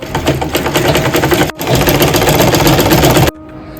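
Sewing machine stitching quilting lines and attaching a border strip on a cotton baby quilt, a loud steady whirring run that pauses briefly mid-way and stops abruptly near the end.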